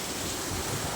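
Afternoon rain falls steadily, a dense, even hiss with no breaks, close and moderately loud throughout.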